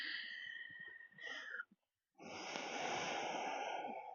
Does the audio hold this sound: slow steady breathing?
yes